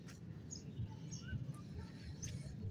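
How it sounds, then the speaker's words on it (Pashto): Small birds gathering where bread is scattered for them at a home give faint, scattered short chirps and tweets over a low background rumble. "نو مرغۍ خو اوازونه کوي"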